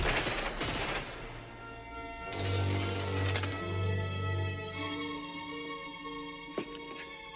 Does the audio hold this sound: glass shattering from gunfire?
yes